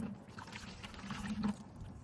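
Hot steaming water poured from a heated kettle into a container for a minivan shower, a steady close splashing trickle lasting about two seconds with a low watery rumble.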